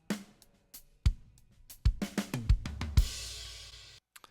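An EQ'd kick drum captured with inside and outside microphones blended together, several punchy low thumps at irregular intervals, with a brighter wash of cymbal-like noise joining near the end.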